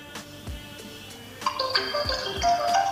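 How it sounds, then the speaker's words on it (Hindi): A Fastrack Revoltt FS1 Pro smartwatch rings with a repeating electronic ringtone from its Find My Watch feature, faint at first and growing louder, with vibration not clearly distinct. "रिंग वाइब्रेट दोनों ही हो रहा है"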